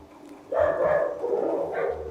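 Dogs barking at an animal shelter: a short, close burst of barking and yipping, one bark after another, loud over a quiet background with no talk.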